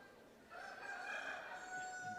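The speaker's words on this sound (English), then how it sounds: "the roosters like to crow" A rooster at a state fair in Florida crows once in a long, fairly faint call that rises and holds, heard from some distance over a background crowd murmur.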